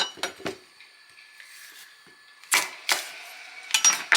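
A knife cuts a carrot diagonally on a board. Sharp, close chopping clacks come in short clusters, separated by a quiet pause.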